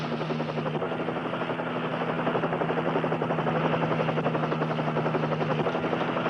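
A police helicopter flies overhead with a steady, loud rotor drone and a constant whirring hum, holding an even level throughout with no speech.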